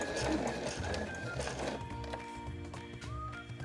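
A sewing machine stitching a small fabric pouch runs steadily for a couple of seconds with a dense mechanical whir, then slows and stops into intermittent clicks and short stitches near the corner.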